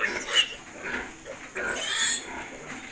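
Pigs grunting and oinking in a piggery where sows are kept, several overlapping grunts close by in a noisy pen.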